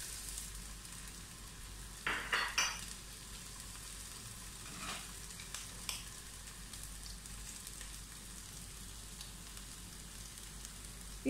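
Crushed ginger, garlic and green chillies sizzle and fry steadily in a pan, with a few sharp bursts of louder crackling and stirring scrapes early on, then settling into an even hiss.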